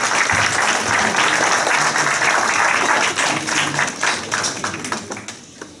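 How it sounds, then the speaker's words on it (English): Audience applause at a community leadership award ceremony in London, loud and dense at first, then thinning into scattered claps as it fades toward the end. "A round of applause for this young lady."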